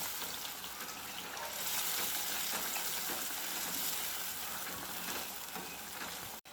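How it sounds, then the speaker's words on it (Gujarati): Bottle gourd being stirred into a tomato gravy in a pan, a steady close sizzle and frying hiss with soft scraping of stirring throughout, no voices. "હવે આ દૂધીને આપણે જે આપણે ગ્રેવી બનાવેલી છે તેમાં એડ કરી દઈશું અને દૂધીને ગ્રેવી સાથે મિક્સ કરી દઈશું"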